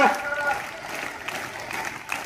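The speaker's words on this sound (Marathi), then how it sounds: "आता या बारकाल्या मुलांनी जोरात टाळ्या वाजवल्या." Young schoolchildren clap hard together at a high school gathering, making a dense, steady burst of applause with voices mixed in.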